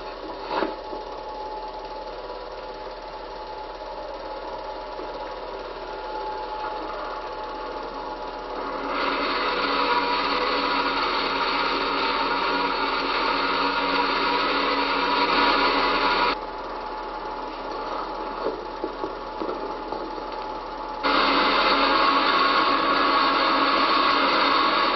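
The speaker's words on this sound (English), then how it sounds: "I'm about to start the engine up just before removing it from the chassis." Engine of a 1932 Avon Standard Special car, still in its chassis and mid-restoration, runs with a steady mechanical whir. It rises to louder surges of revving, drops back, then revs up again, with no voices.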